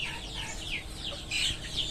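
Chickens on a farm clucking in short, scattered calls against a faint, noisy background, fairly quiet and without any human voices.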